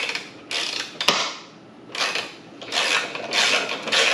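Socket wrench with a 5/8 socket working the rear bumper bolts on a Tesla Model 3, a few close bursts of ratcheting and creaking with a sharp click, separated by short pauses.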